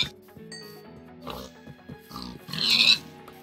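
Pigs in Minecraft give several short grunting oinks over a light melodic game soundtrack, close and clear, with a louder squeal-like burst near the end.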